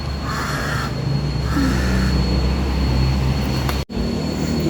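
A bird calls in the Philippines, two loud harsh caws up close, under a steady low drone and a constant high tone.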